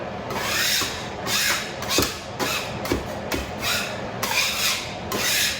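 A scraper rasps across a honey house floor to lift off sticky propolis, repeated rough strokes about once a second, close and moderately loud with knocks and scuffs between them and no talking.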